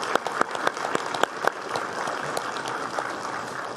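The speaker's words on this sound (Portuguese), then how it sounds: "Então, palmas a vocês." Applause in the Brazilian Senate plenary, a dense burst of clapping that starts with a few sharp, distinct claps and settles into a steady, fairly close wash, with no voices over it.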